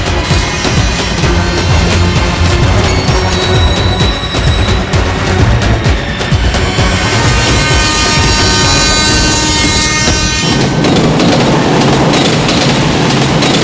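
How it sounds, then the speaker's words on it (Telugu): A train rolls past on the railway tracks, a loud, close, continuous roar of wheels and carriages with metallic ringing and rattling, ending in a steady rumble. "ట్రైన్ వస్తుంది అక్క"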